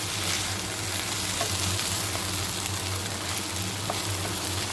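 Chili powder and vegetables for a cauliflower pulao sizzle steadily in a hot pan, giving a continuous close frying hiss with a low hum beneath and no talking.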